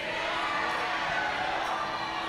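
A distant, steady crowd roar at a youth climbing competition in Central Saanich, a faint wash of cheering held at an even level with no single voices standing out.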